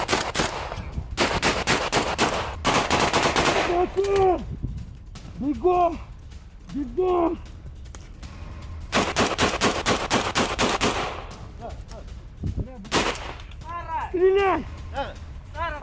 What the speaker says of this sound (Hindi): अंधाधुन फायरिंग का वीडियो सामने आया